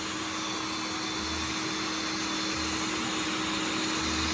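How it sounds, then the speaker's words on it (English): A vacuum cleaner sucks dust from inside an opened Dyson DC05 with a Panasonic motor, droning steadily up close, a constant whooshing roar with a low hum beneath it and no pauses. "I'm just trying to get rid of the dust with my hoover"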